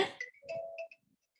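A phone ringtone plays a short electronic melody of bright tonal notes, fairly faint, then stops abruptly, with no talking over it.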